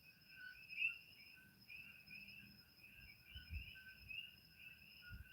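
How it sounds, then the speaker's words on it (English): Coqui frogs calling at night on Hawaii's Big Island, a steady, layered chorus of high, repeating chirps that runs through the clip at moderate volume, with faint low thumps beneath and no talking. "Those are the coqui frogs."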